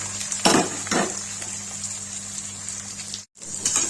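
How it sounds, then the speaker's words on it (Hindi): Sliced onions hit hot oil with crackled cumin, giving two sharp sizzling bursts and then a steady, fine frying hiss close by. "ये गाइस जीरा डाल दिया। तड़क गया, इसमें डालेंगे प्याज।"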